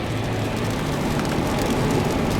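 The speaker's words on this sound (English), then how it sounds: "Now it's raining and I'm gonna stop this now." Steady rain falls outdoors in a national park area, a dense, even hiss of drops on surfaces that holds constant throughout with no pauses and no talking.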